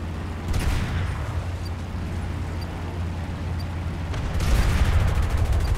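Tank gunfire and bomb explosions from a War Thunder arcade battle at the Port of Novorossiysk: a rumbling rolling fusillade with bursts of gunfire, swelling louder near the end, with no talk over it.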